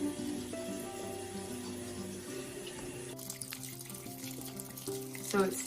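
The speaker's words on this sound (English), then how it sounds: "So it's still filling the tank" Cold water runs from a tap into a washing machine tank, a continuous hiss and splash with faint humming tones beneath.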